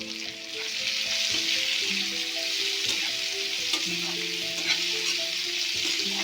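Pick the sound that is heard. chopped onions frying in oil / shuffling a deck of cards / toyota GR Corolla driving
chopped onions frying in oil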